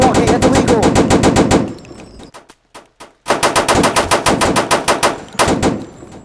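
Rapid automatic gunfire from a Roblox shooter game, loud and close, in sustained bursts with a short lull in the middle before firing resumes; no talk over it.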